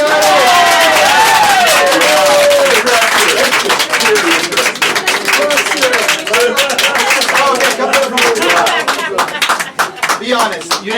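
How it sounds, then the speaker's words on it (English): Loud, close applause and cheering from an audience at a live mind reading show, sustained dense clapping with excited voices and whoops over it, while a performer speaks through the noise. "Give a round of applause."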